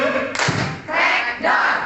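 Students in a classroom clap once in unison on a teacher's cue, a single sharp thump followed by a voice calling out, close and loud in a small room.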